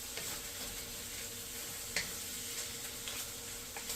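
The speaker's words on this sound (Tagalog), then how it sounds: "Haluin natin guys." Bottle gourd with chicken and tomatoes is stirred in a pan, giving a steady low sizzle with faint scraping ticks and one brief sharp clack near the middle, with no voices.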